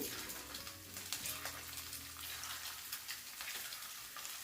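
Small fish balls frying in hot oil, a soft continuous crackling sizzle with light bubbling, faint and close, no voices.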